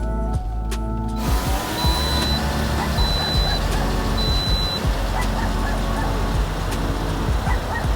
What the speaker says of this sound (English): Why is this dog barking at me?